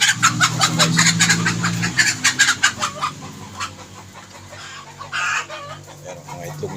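Several backyard chickens cluck and squawk close by in a coop under renovation, a busy run of calls that thins out midway before one louder squawk near the end.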